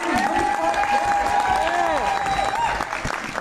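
Applause from an audience at a charity auction during a closing ceremony, a dense patter of clapping with scattered cheers and voices mixed in throughout.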